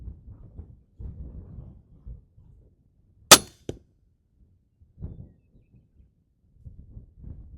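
A single sharp crossbow shot cracks out loudly at about three seconds, briefly ringing, between stretches of low rustling and handling noise, with quiet background otherwise.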